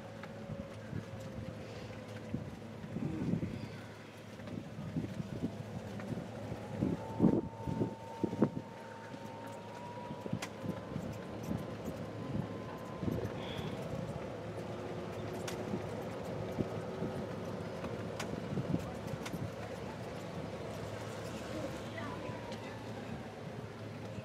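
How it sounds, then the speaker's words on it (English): A boat shuttle at Disney's Fort Wilderness carries on across the water toward the Magic Kingdom. It makes a steady low engine drone with wind noise, and people talk over it for most of the stretch. "The boats are running right now, trying to get over to the kingdom."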